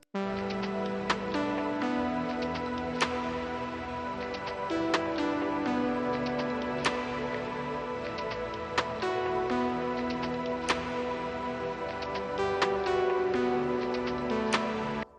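Synth melody built in Diva over sustained supersaw-style chords, with percussion and a snare adding sharp periodic hits, playing continuously and full without any voices.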